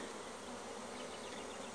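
Honeybees from a weak, queenless colony humming softly around the hive, a continuous faint buzzing drone with no voices.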